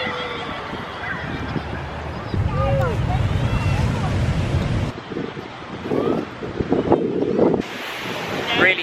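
Ocean waves and surf roll in at Nha Trang beach, where a strong current pulls. The wash is a steady, loud rumble with gusts of wind buffeting the microphone.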